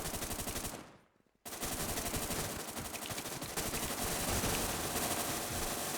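Loud automatic gunfire sounds in the online shooter WarZ as sustained machine-gun bursts, breaking off for about a second before it picks up again at full intensity.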